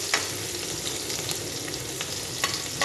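Garlic sizzles in hot cooking oil in a pan, a steady close crackling fry with small spits and pops scattered throughout.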